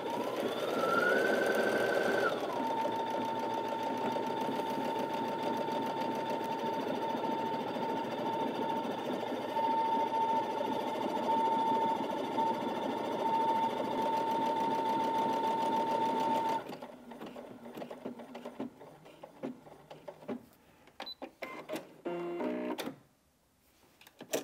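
A Brother Innov-is A150 sewing machine stitches a buttonhole with a fast, steady mechanical whir and a high electric whine, running continuously for about sixteen seconds before giving way to quieter clicks and handling sounds.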